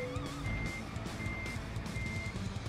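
Reversing beeps from a truck backing into a parking spot in American Truck Simulator, steady repeated tones over a low diesel engine rumble, close and continuous.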